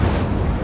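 Incendio fire spell cast in Hogwarts Legacy: a short, loud, dense burst of roaring combustion lasting under a second, with no talk.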